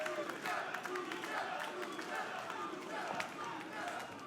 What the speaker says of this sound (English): The downtown Charleston crowd showing their appreciation for these luchadors.